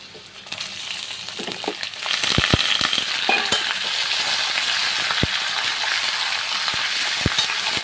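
Chicken pieces hit hot oil with browned onions and fry in a steady, close sizzle, with sharp clicks and scrapes of stirring scattered throughout.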